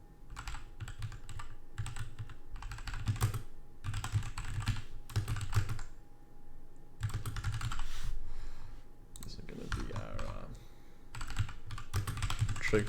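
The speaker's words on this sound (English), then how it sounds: "So up here, I'm going to type this in." Python code being typed on a computer keyboard: rapid, close clicking keystrokes in continuous bursts with brief pauses, no talking.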